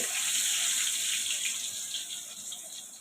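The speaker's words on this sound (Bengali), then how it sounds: "এই যে আমি মাছটা একে একে দিয়ে দিব" Pieces of aar fish coated in raw oil going into hot oil in a pan for a Bengali fish curry, producing a loud, steady, hissing sizzle close by with no voices.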